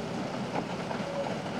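Train rolling along a rail line near the King River in Tasmania, a steady rumbling wagon noise with faint clatter, continuous and moderately close.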